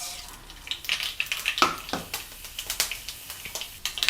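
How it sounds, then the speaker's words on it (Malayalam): Mustard seeds and fenugreek splutter in hot coconut oil, a rapid scatter of sharp pops and crackles close by, irregular and lively over a soft sizzle. "ഇപ്പം അതിലേക്ക് പൊട്ടിക്കാനായിട്ട് നമ്മൾ 1 ടീസ്പൂൺ ഉലുവയും 1 ടീസ്പൂൺ കടുകുമാണ് എടുത്തേക്കണേ."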